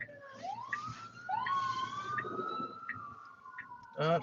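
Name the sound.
siren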